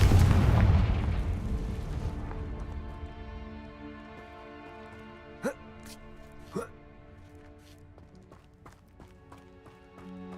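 A fiery Confringo spell blast in the Hogwarts Legacy video game erupts loud and booming at the start, then decays over about two seconds. Two sharper impacts follow mid-clip over sustained musical tones.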